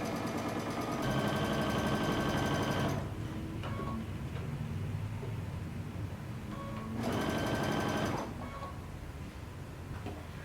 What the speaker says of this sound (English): we're just going to sew about, I don't know, about 1/8 of an inch away from our seam line